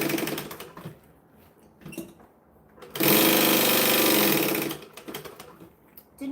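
A sewing machine stitching Tory pockets on a kangaroo garment revs up to a fast, loud whirring run for about two seconds, framed by quieter clicks and handling noise.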